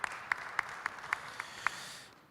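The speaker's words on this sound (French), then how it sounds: "On l'applaudit également." Audience applause at a round-table forum on the energy transition: a sparse run of evenly spaced, distinct claps that fades out after about two seconds.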